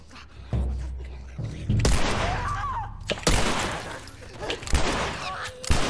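Gunfire while shooting enemies in The Last of Us, several loud, close shots and bursts with heavy thuds spread across the span, over a murky game background.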